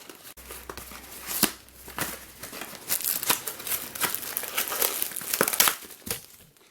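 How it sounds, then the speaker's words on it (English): Cardboard packaging for a LanLan twisty puzzle being torn open by hand makes a close series of crinkling, ripping bursts that come in irregular clusters, with a low hum under the start and no talk. "Usually I don't rip open the boxes, but I've got loads of these LanLan boxes, so it was a lot easier to just rip it open"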